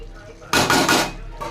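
Spices such as turmeric, salt, a little sugar and cumin powder are tipped into a cooking pan and stirred, giving a short burst of loud scraping and clattering against the metal in the middle, with quieter room sound on either side.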